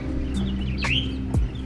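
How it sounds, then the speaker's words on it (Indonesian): Birds chirp from a tree in front of a house, with a couple of short, clear tweets over a steady low hum and no one speaking. "di rumah saya masih bisa dengarkan suara burung, kicau burung"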